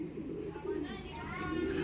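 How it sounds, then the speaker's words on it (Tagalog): Backyard pigeons or doves give soft low cooing calls, faint and somewhat distant, over a steady background hum. "Kasi sa tutusin, meron nag-aabang ditong ibon."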